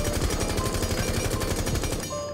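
Automatic rifle fire in Rainbow Six Siege, a rapid, even stream of close, loud shots sustained for about two seconds before cutting off.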